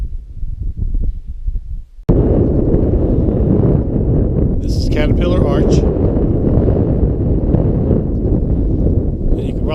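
Strong wind buffets the microphone on a canyon trail in Lavender Canyon, Canyonlands National Park's Needles District, as a heavy, continuous low roar. A person speaks briefly at the start.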